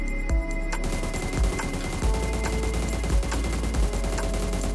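Repeated gunfire in PUBG Mobile during an aim training drill: loud bursts and single shots recurring roughly every second over steady background game noise, with no talking.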